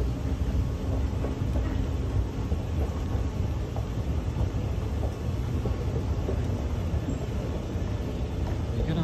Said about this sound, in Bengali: এটা হচ্ছে মেট্রো স্টেশন।